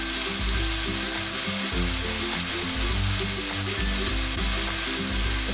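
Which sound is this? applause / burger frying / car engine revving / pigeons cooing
burger frying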